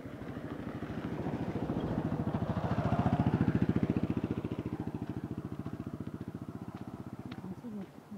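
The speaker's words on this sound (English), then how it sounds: "Motorcycles, they are the main means of transportation in these roads, in these places, in the untarmacked roads." Motorcycle on an untarmacked road, its engine throbbing in a steady low rhythm that swells as it nears around the middle and then fades as it moves off, heard alone.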